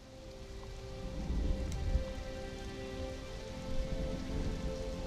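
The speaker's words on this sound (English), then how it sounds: "It's raining there. It's probably raining over the whole map." Steady rain falls across the map in the Conan Exiles video game, a continuous even patter on surfaces with low rumbling undertones, alone without any talking.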